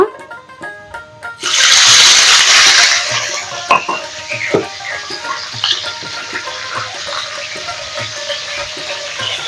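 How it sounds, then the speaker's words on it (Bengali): Water is poured into a pan of frying onions, an abrupt loud rush and hiss of steam that fades into bubbling crackles and scattered clinks. "এখন এর ভিতরে আমি অল্প পরিমাণে পানি দিয়ে দিব"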